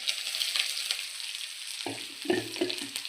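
Onion, green chili and ginger sizzle in a hot pan as they are sautéed, a steady close frying hiss broken by the scrape and clatter of stirring.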